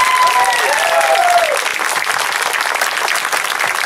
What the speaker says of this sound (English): I want you guys to give a big round of applause and a welcome to our new Chief of Police